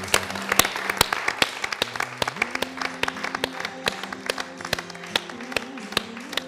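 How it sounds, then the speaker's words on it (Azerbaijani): An audience at a commemorative event for a war hero claps in scattered, uneven bursts, with some sharp individual claps. Soft tonal background music plays beneath the applause. "bu alqışlar sizin olmalıdır"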